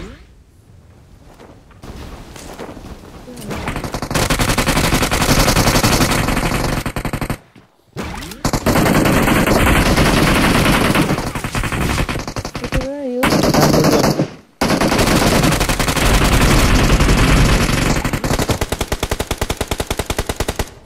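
Rapid machine gun fire in a video game: long, loud, dense bursts that fill most of the clip, broken by a few short pauses.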